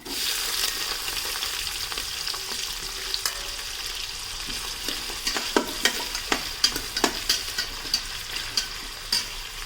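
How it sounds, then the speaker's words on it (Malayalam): Sliced onions and green chillies frying in masala for a vegetable biryani, a steady sizzle broken by repeated scraping stirs of a spoon against the pan, growing busier toward the end. "അപ്പോൾ ഇത് സവാളയും പച്ചമുളകൊക്കെ ചേർക്കുന്നുണ്ട്."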